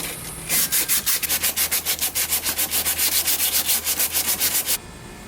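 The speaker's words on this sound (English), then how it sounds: "You are sanding fiberglass" Rapid, steady back-and-forth scraping of sandpaper on fiberglass, a Sea-Doo XP Limited hood, about five strokes per second, close and loud, with no voices.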